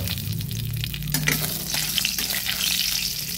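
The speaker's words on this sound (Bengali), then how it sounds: "তেলটা কিছু গরম হলে দিয়ে দেব কালো জিরে ফোড়ন, সঙ্গে দিয়ে দিচ্ছি একটা চেরা কাঁচা লঙ্কা।" Black cumin seeds and a slit green chili tempering in hot oil, a loud dense sizzle and crackle that holds steady throughout with a brief stirring clatter.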